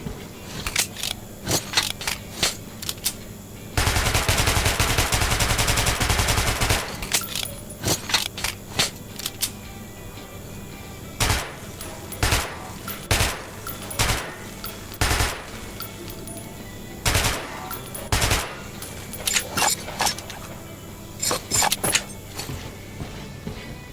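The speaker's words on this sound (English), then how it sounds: "Feel free to try out your weapon on my firing range." Weapon test-firing on a firing range in the video game Metro: scattered sharp single shots and quick bursts over twenty-odd seconds, including a dense sustained automatic stretch early on, with metallic clinks between volleys.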